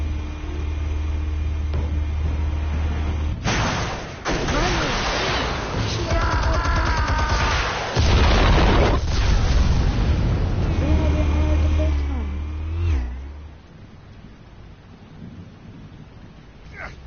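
Explosives detonating in the Batman Telltale video game: heavy, rumbling blasts roar out twice, with thunder-like low booms and crackling debris over a dense score, then fade into a quieter tail.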